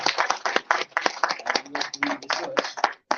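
A small conference audience gives a research scholar a short burst of close, crisp clapping from a handful of people, with irregular hand strikes.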